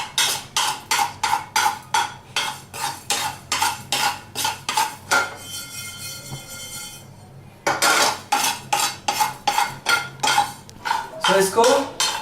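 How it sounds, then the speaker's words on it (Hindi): Cumin seeds dry-roast in a pan while a utensil stirs them in a quick, regular run of scraping strokes, close and clear, with a brief lull midway before the rhythmic scraping resumes. "तो हम जीरे को ड्राई रोस्ट करेंगे सबसे पहले"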